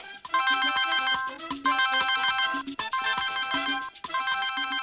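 A phone rings with a bright, looping electronic melody ringtone, repeating in several loud, close phrases with brief gaps, and no talking.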